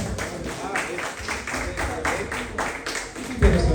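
A church congregation claps in praise, a steady rhythmic beat of hand claps over reverberant room noise, with voices mixed in underneath.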